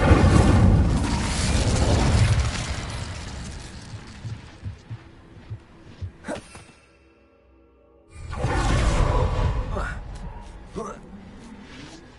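Incendio fire spell cast in Hogwarts Legacy: a loud, roaring whoosh of flame that fades into crackles, a near-silent gap, then a second fiery burst swells and trails off, with a voice speaking over part of it.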